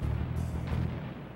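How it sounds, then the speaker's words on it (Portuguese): A deep, rumbling naval cannon boom from the Confederate raider Alabama rolls out and fades, followed by a second muffled blast under a low, steady roar. "O Alabama fez os primeiros disparos a uma distância de 1 quilômetro."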